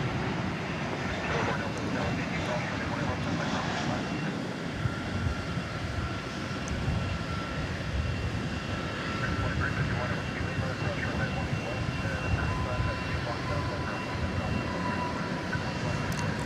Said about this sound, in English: Airbus A320 arriving from San Antonio, Texas, flight 1836.